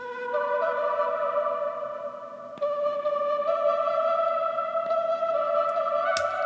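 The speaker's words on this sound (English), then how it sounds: "So it's meant to emulate a voice sitting underneath it, sound like a voice pad." A soft, sustained synth voice pad layer built in Logic Pro for a song remake, holding steady airy tones with a faint click partway through and a brief bright burst near the end, no talking.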